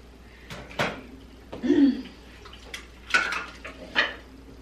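Dishes being washed at a kitchen sink, with scattered close clinks of plates, pots and cutlery, a few separate knocks and scrapes spaced a second or so apart over a quiet background, with no talk.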